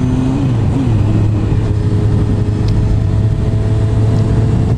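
A motorcycle engine runs steadily while being ridden, a close, continuous low drone with sustained tonal hum and slight pitch shifts, loud and unbroken throughout with no talking.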